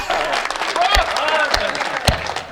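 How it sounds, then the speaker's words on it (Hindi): Brief burst of audience clapping at a Hindi comic poetry gathering (kavi sammelan), a few seconds of scattered claps mixed with crowd noise and a voice, with sharp louder claps standing out. "तालियां"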